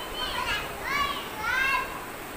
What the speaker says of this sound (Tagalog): Mga bata ko naliligo sila.